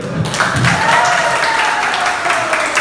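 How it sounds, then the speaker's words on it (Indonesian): Audience at a student debate on political education applauding, a continuous moderate patter of clapping with a faint tone running through it. "Kasih tepuk tangan dulu"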